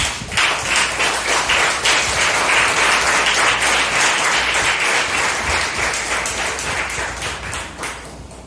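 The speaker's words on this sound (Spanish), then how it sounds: "Otro aplauso al Señor si usted quiere, pues." A church congregation applauds during a sermon, a dense, steady wash of many hands clapping close and loud throughout, tapering slightly toward the end.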